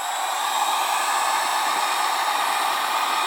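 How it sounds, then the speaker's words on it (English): A hair dryer blows steadily and loudly without a break, its even broadband whoosh running alone from start to finish with no voices. "what happens if I use the dryer"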